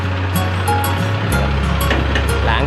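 Steady rushing spray of water washing down a rice combine harvester after harvest, a continuous close wash with faint spattering on top and no talking.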